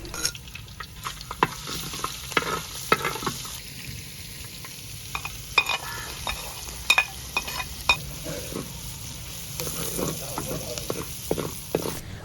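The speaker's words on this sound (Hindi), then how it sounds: "अब हांडी में ऑयल डालकर लहसुन और प्याज डालकर थोड़ा भून लेंगे।" Oil sizzles steadily as garlic and onion fry in a pot, with frequent scraping and stirring clicks from a utensil close by.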